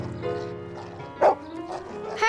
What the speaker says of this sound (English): Herbie barked.